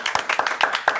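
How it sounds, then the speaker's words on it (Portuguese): Rhythmic audience clapping on a Brazilian podcast set welcomes a guest, a steady, close, regular beat of hand claps that fills the whole brief moment. "recebeu com muitas palmas, junto com a gente, Sofia!"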